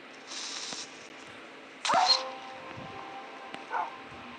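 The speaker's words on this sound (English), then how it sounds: "we got our new dog Nika. We got our new doggy" A dog in the video game Minecraft gives a few short barks and a whimper-like yip, spaced apart and fairly close, over a quiet game background without talk.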